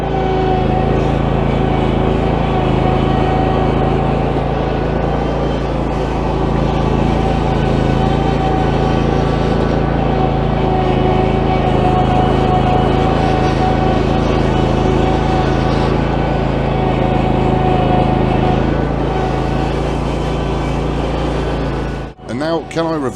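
A zero-turn lawn mower with replacement tyres drives up a grassy slope, its engine droning loud and steady throughout with a constant low hum, cutting off briefly near the end.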